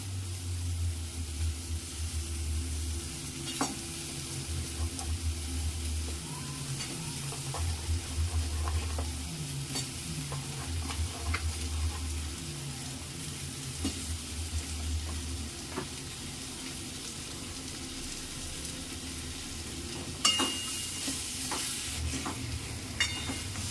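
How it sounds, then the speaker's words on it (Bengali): Fried mango pieces being stirred with lumps of hard jaggery in a pan as the jaggery melts, a steady soft sizzle with intermittent scraping stir strokes throughout. "দু চার মিনিট নাড়াচাড়া করতে করতেই দেখবেন গুড়টা গলে গেছে"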